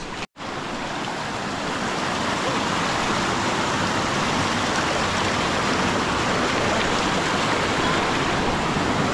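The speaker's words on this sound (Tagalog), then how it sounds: "naririnig ko na rin yung malakas na agos" A strong river current rushes through a forest, a loud, dense, unbroken roar close to the listener after a brief dropout at the start.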